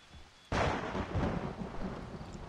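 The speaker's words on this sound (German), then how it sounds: "Jetzt gewittert es auch noch." A sudden, loud thunderclap from a thunderstorm in the video game Assassin's Creed III crashes in after a quiet moment, then rolls and rumbles on for a couple of seconds with rain hiss underneath.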